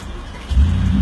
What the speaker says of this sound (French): il va allumer la voiture.